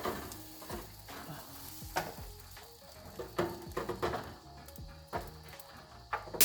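Turkey thighs sizzle softly in a pan while being flipped, with repeated clinks and scrapes of a utensil against the pan over a low, steady frying crackle.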